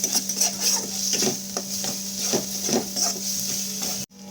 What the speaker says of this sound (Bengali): আদা রসুনের যাতে কাঁচা গন্ধটা চলে যায় সেরকমভাবে কিছুক্ষণ ভেজে নিতে হবে